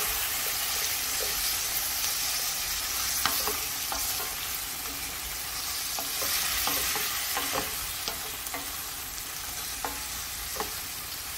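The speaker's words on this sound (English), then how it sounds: "So just stir. Mix it well." Red curry tuna is stirred in a hot pan, a dense continuous sizzle with frequent soft scrapes and taps of a spatula against the metal, close and steady with no talking.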